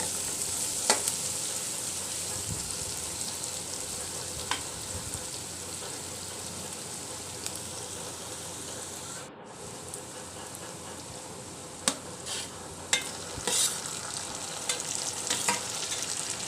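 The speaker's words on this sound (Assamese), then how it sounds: "আৰু পিয়াজখিনি অলপ ভাজি লম" Onions seasoned with salt and turmeric fry in a pan until golden, with a constant close sizzle, occasional spatula scrapes, and a run of sharper clanks near the end.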